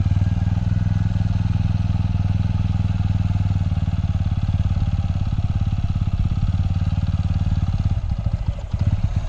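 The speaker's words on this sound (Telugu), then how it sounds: "ఇప్పుడు ముందుకి మెల్లగా క్లచ్ మెల్లగా రిలీజ్ చేయి." A motorcycle engine runs steadily close by with a fast, even pulsing thrum that loosens and wavers near the end as the clutch is slowly released and the bike begins to pull off.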